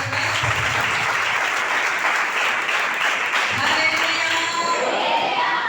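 A church congregation breaks into sustained, dense applause that fills the room, with a murmur of voices mixed in and a brief dip midway before the clapping swells again.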